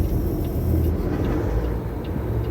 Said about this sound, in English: I don't like making the truck do a lot of work, so I split every gear almost every time.